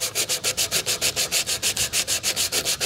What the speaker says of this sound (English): You can use some coarse sandpaper. You can do it by hand